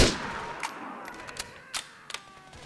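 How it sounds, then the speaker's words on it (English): Sniper rifle shots in GTA IV, several sharp isolated cracks spaced irregularly, fairly faint against a quiet game background after an initial louder burst. "Taste my sniper rifle!"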